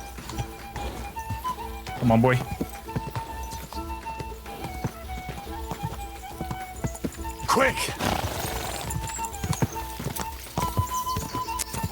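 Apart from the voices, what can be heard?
horse galloping hooves in Kingdom Come: Deliverance II video game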